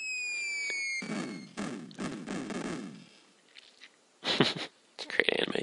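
Cannon shots from the video game Seiken Densetsu 3, a series of sharp bursting blasts and crackling impacts with game effects, loud and close, fading to quieter sounds before two final bursts.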